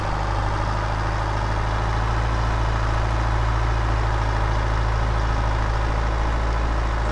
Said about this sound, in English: that's pulling that trailer was one of my tractors